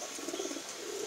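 Soft, low cooing from a loft of White King and Black Bukhara pigeons, including a White King male, rolling in gentle repeated pulses at close range over a steady airy background.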